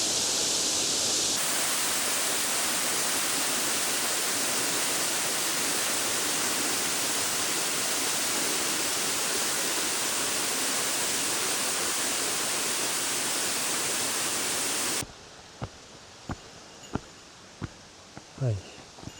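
A waterfall on the Keihoku course of the Kyoto Isshu Trail, close overhead as if from right below, crashes in a loud, unbroken rush. It cuts off abruptly into near-quiet with scattered footsteps and clicks.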